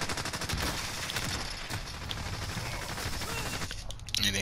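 Gunfire in Call of Duty sounds as rapid, continuous bursts of automatic weapon fire, dense and steady throughout, at moderate loudness with no voices over it.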